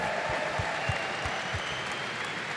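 A live crowd at an esports event, an All-Stars 2014 tournament, applauds in a steady, sustained wash of clapping and cheering, with no talk over it.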